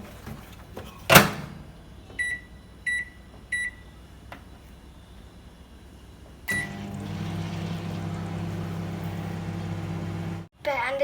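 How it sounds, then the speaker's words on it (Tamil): A microwave oven heating chicken cheese baked rice: a few short electronic beeps and a door click, then the oven's steady humming drone runs for several seconds before cutting off, with a clunk at the end. "சீஸ் சிக்கன் பேக் ரைஸ் வந்து மைக்ரோவேவில் வைப்போம்."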